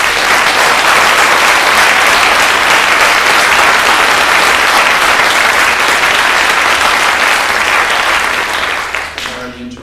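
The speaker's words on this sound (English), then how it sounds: "I'd really like to hear a hand for Andrea for being here" Sustained audience applause for a performer at a live concert in Whitby, a dense, loud clapping roar lasting nearly ten seconds before thinning out at the end.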